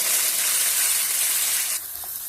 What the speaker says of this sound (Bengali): মশলাটা ভালোভাবে কষে আসলে জলটা দিয়ে দেবো